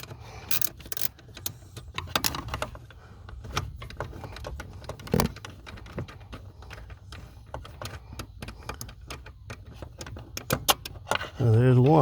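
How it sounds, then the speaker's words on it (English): A small ratcheting combination wrench works bolts loose on a Porsche 996 Turbo clutch master cylinder, giving repeated sharp clicks and metallic ticks in quick bursts. The clicks sound close and moderately loud, with a brief louder mechanical noise at the end. "I got my little ratcheting combination wrench here"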